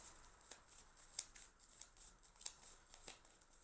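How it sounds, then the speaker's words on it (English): Soft, quiet riffling of tarot cards being shuffled in short bursts, a few distinct flicks spaced about half a second apart, close and faint. "Let's keep shuffling."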